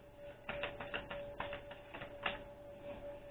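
Tarot cards being shuffled, a series of soft riffling, flapping bursts and papery taps in an uneven rhythm, close and fairly quiet, with no voices.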